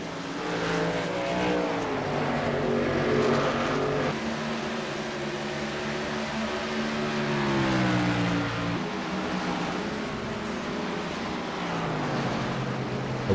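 Race trucks battle on the track at Phoenix, their engines droning loud and continuous with rising and falling pitch as several pass close together, with no talk.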